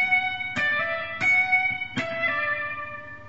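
Electric guitar with a distorted, effects-laden tone plays a short Pachelbel Canon in D phrase of quick triplets using hammer-ons and pull-offs, three distinct plucked attacks ringing with sustained overtones.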